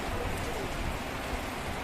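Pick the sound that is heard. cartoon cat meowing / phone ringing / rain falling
rain falling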